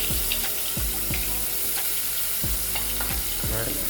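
Green chilli paste fries in a pan while being stirred, a loud continuous sizzle with rhythmic scraping strokes of a spoon against the pan, close up and with no talk.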